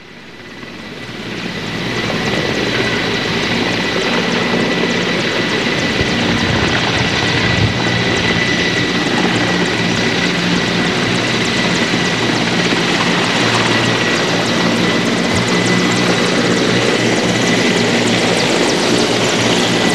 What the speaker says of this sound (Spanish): Son 3 helicópteros Mi-19 que continúan surcando cielos del distrito de Chorrillos